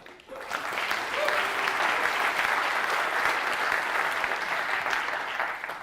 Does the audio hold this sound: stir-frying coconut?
no